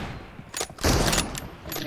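A single loud gunshot blast in a shooting video game, a short sharp burst rising out of quieter background noise and trailing off quickly, with faint voices around it.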